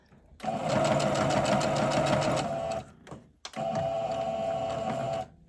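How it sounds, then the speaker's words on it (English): A sewing machine runs a steady, fast stitching burst while back stitching the seam of a raglan T-shirt, pauses briefly, then runs a second even burst close up. "we're just going to line it up to the end and do a little back stitch."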